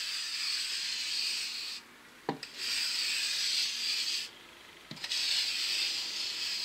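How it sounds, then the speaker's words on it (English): A scarifier drags across fresh sand and cement render on a chimney breast, making harsh, raspy scratching strokes close up, with two brief pauses and small knocks between passes. "we're just going to run that across in slight curves just to give a rough textured finish"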